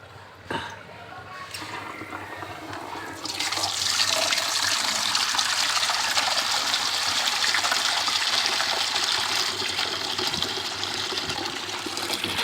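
A pump fills a vessel with water. After a short, quieter start, the water gushes in a steady, loud rush that carries on to the end.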